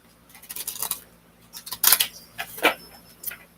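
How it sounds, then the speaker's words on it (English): Tarot cards are shuffled in short papery riffles and flicks, close and crisp, arriving in several quick bursts against a quiet background. "I have to shuffle the cards."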